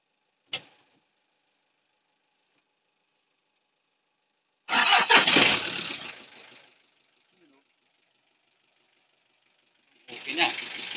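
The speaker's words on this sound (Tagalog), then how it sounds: "So, andarin na natin" A small engine with a recently recharged battery, previously misfiring and blowing white smoke, is cranked and fires up in two loud bursts separated by silence, after a brief sharp click near the start.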